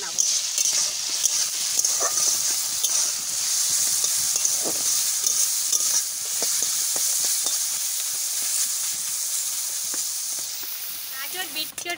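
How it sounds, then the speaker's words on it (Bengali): Carrot, beetroot and capsicum frying together in a pan for gajar upma, a steady close sizzle and hiss with occasional stirring clicks, continuous throughout while a voice talks over it. "গাজর, বিটকটি আর ক্যাপসিকাম একসাথে আমার ভাজা হয়ে গেছে"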